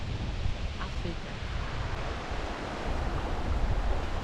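Ocean waves on a beach at Batakunku in a Gambian nature reserve: a steady broadband wash of surf mixed with wind buffeting the microphone, swelling slightly toward the end.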